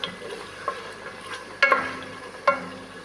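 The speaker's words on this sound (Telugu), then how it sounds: "ఇగో టమాటాలు మగ్గుతున్నాయి ఫ్రెండ్స్" Tomatoes softening and sizzling in a pan, a low steady fry with a few sharp scraping stirs of a spoon, close and alone.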